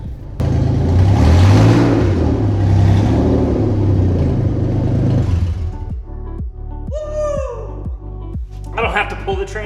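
Engine of a junkyard Audi starting and idling after a stuck clutch broke free, a loud rumbling rev at first that settles into a steady idle with rhythmic ticking.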